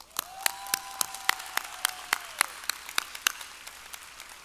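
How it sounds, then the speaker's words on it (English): Sparse, evenly spaced claps ring out at a university fall commencement ceremony in a large hall, a thin round of clapping fading toward the end. "Graduates, let's show them our appreciation with a round of applause."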